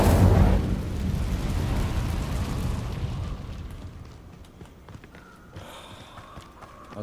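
In Hogwarts Legacy, an Incendio fire spell erupts in a loud fiery burst at the start, then a rumbling roar slowly fades away, with some scattered clatter afterwards.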